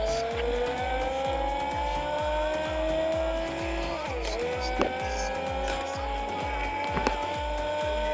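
A car in the Car Parking game drives with a steady engine drone, its pitch shifting as it slows, and a couple of brief clicks or thuds along the way.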